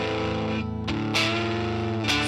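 Electric guitar run through an Aclam Dr Robert overdrive pedal: sustained distorted chords ring out loud and close, with a couple of sharp pick attacks restriking them.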